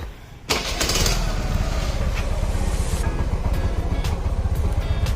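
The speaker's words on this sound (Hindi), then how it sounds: "बस निकाला है बाइक।" A scooter engine catches after a brief quiet moment and settles into a steady, close idle with a rough low rumble, with a few clicks and knocks over it.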